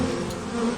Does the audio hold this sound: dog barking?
no